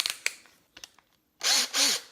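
A power drill driving a screw while a GoPro camera boom for a kayak is being assembled: a few faint clicks and taps, then two loud whirring bursts with rising motor pitch.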